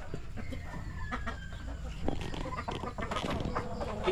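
Farm chickens clucking close by in a coop, a busy run of short clucks and cackles with rustling, while people talk in the background.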